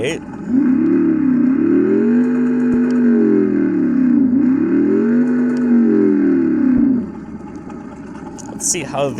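Simulated big V8 engine revving played through the built-in speaker of a Meelod T16 kids' e-bike, a steady synthetic rumble that swells and dips in two long rev cycles, close and loud.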